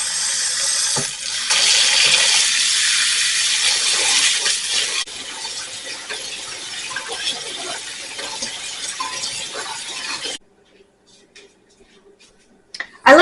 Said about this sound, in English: Now we're going to get these rinsed off.